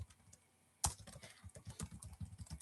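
Keys clatter on a computer keyboard as an email address is typed, starting with one sharp strike and continuing as a quick, uneven run of close, quiet taps.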